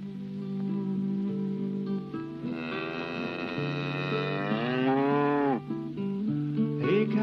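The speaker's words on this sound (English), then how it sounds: "she is a nice, warm, friendly animal, the cow." Cow mooing from a 1970 Sesame Street episode: one long, loud, sustained moo that rises and bends near the end, close and clear over a steady background tone.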